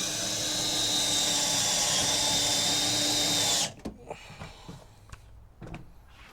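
A power drill drives a self-tapping screw into a budget tailgate panel on a Toyota Tundra, whirring loudly and steadily for several seconds before stopping, followed by soft handling clicks and knocks.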